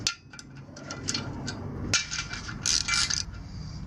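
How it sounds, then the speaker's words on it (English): Metal nuts being removed from the rear sprocket bolts of a KLX140 mini supermoto motorcycle, heard as a series of light metallic clinks and ticks, with a sharp click near the middle and a brief clattering scrape toward the end. "So we're gonna go ahead and take the nuts off here."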